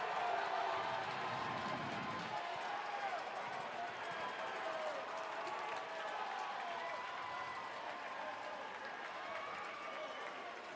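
Crowd roaring at an Army versus Air Force hockey game in an indoor rink: a loud, sustained wash of cheering and shouting that holds steady throughout.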